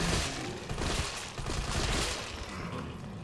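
Gunfire from the Resident Evil 3 Remake video game comes as a dense, continuous rattle of rapid shots, loud and sustained across the whole stretch.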